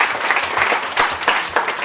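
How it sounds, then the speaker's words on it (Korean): Audience applause for a marketing team leader introduced at a company meeting, a steady burst of clapping from a room of people, alone without speech. "박수 한번 쳐주세요."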